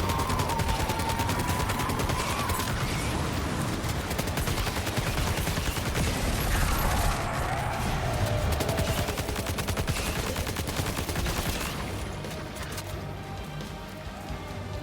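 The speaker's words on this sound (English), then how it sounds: "I'm gonna use my rifles now." Rifle gunfire in the video game Death Stranding 2, a dense, sustained stream of rapid shots crackling over a noisy wash of rain-like ambience, steady and loud before easing off near the end.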